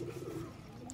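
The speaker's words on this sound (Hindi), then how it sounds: "बाकी ये कबूतर निकले आए हैं" Pigeons coo steadily in a village, a low, continuous burbling murmur from several birds close by, with a brief higher chirp near the end and no talking.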